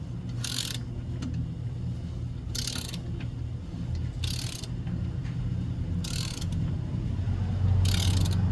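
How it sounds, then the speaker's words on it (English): A socket wrench ratchets while torquing a ball joint nut to 30 foot-pounds on an off-road ball joint rebuild, giving five evenly spaced bursts of quick clicking over a low background hum. "That will also be torqued to 30 foot-pounds."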